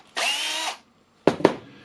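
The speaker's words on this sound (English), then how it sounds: "Let's take the 6mm metal drill bit." A power drill with a 6mm metal bit bores into the white plastic of a Makita battery pack: one loud, high whine lasting about half a second, a pause, then two short sharp bursts.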